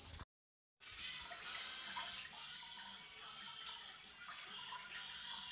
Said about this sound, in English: Just draining now, guys, and I'll swap in there.